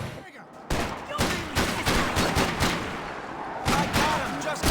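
Rapid gunfire from Max Payne 3 cracks in dense, overlapping bursts of shots, loud and close, with shouting voices from the game between the volleys.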